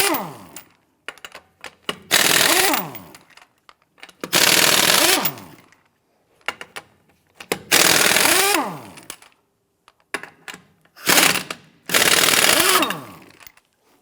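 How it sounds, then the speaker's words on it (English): Five short, loud bursts of a power tool spinning off wheel lug nuts with a 21mm socket on a 1992-1996 Toyota Camry, each whirring rattle about a second long and separated by quiet pauses, close by. "Using your 21mm socket, loosen and remove the lug nuts."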